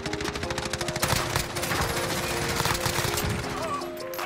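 Rapid automatic gunfire and scattered shots from a hillside firefight in a video game, dense and continuous with bursts throughout and no speech.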